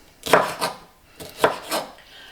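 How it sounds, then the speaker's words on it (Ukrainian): A knife thinly slices bell pepper on a board in a few quick, soft strokes, two pairs of chops separated by a brief pause, close and quiet. "Так, так тоненько нарізаю перець."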